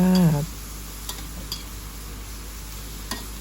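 Water mimosa stir-fries with oyster sauce in a pan, a faint steady sizzle with occasional light clinks of the spatula, after a short tonal sound at the start.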